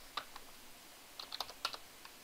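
Typing on a computer keyboard: short bursts of light key clicks, a few isolated taps and then a quick cluster, close and quiet with no voices.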